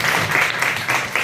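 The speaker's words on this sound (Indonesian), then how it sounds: "Kita berikan tepuk tangan untuk teman kita" Classmates in a classroom clap for a fellow student, a brief, steady patter of applause at moderate loudness with no talking over it.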